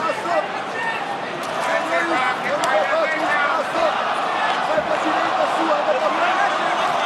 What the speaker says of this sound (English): Boston chants being heard by this partisan crowd early